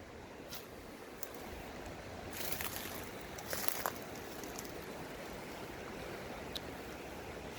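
Steady river water flows along the bank in a continuous broadband rush, moderate and unbroken, with a few faint splashes and ticks over the top and no voices.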